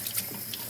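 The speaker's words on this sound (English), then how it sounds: "Now I'm testing the water, making sure that my hot is hot and my cold is cold." Water runs from a newly installed kitchen faucet into the sink, a short close splashing stream.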